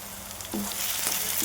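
Fish frying in oil in a pan for a Telugu fish curry, a steady close sizzle with a few brief stirring clinks, no voices.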